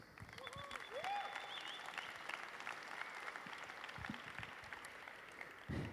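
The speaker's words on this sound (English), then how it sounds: "please give yourselves a massive round of applause" A large audience applauds at a tech conference opening ceremony in Bangkok, a steady wash of clapping from a big hall with a few faint whistles or cheers rising through it, continuous throughout.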